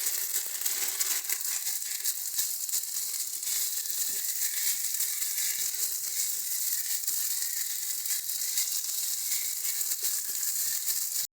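Ginger paste, green chili paste and spices being stirred and fried in a hot pan, a steady dense crackling sizzle that continues evenly from start to finish with no talking.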